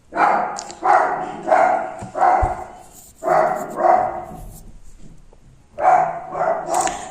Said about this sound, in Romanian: Mai latră și el, că ce să facă de-aia e cățel.